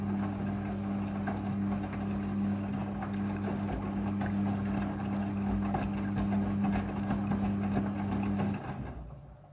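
Steady mechanical hum of a Midea front-loading washing machine rinsing, with water sloshing and churning throughout, stopping abruptly near the end.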